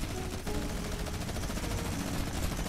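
Dense, continuous game gunfire from Fortnite Mobile during a tournament match, steady and loud throughout with a busy mix of shots and effects.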